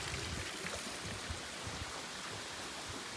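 Water flows steadily in a koi pond in Riyadh, making a constant, even, close rushing splash with no breaks.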